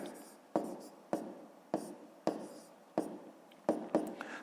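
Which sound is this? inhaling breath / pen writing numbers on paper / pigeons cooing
pen writing numbers on paper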